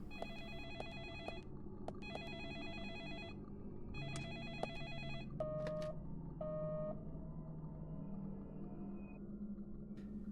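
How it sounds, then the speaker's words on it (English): A telephone rings in the video game Deadly Premonition: repeated electronic trilling bursts in a regular pattern, followed by a couple of shorter tones, clear over a quiet ambient background. "And I guess we'll go answer the phone."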